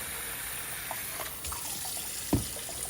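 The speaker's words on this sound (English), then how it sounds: "I'm going to actually add a little more water." Water runs from a tap into a container while soaking food for ferret soupies, a steady hissing trickle with a few soft drips and one louder splash or knock near the end.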